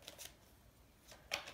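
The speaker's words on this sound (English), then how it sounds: "I am shuffling through." Tarot cards being shuffled during a card reading, a few soft riffling bursts separated by quiet pauses, faint and close with no voices.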